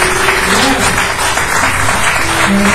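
Loud, dense applause from a church crowd during a pastor's service, a continuous wash of clapping with voices and cheering mixed in.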